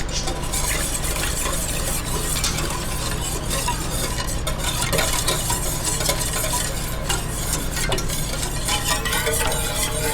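Gelatin being stirred into coconut milk in a pot for a corn jelly dessert, a steady, close scraping and swishing that runs continuously with no one talking.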